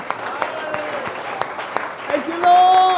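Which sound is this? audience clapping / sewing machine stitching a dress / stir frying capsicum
audience clapping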